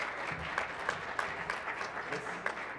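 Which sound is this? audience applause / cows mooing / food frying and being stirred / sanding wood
audience applause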